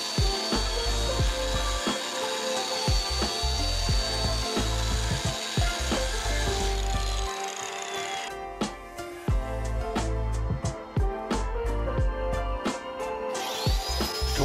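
A concrete grinder drones steadily against a concrete floor, its rough scraping broken by frequent clattering knocks and a high whine.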